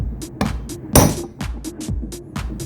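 A hammer taps lightly and repeatedly on a water-pipe fitting being set into a block, several short knocks spaced irregularly, the loudest near the middle, fairly close with no voices.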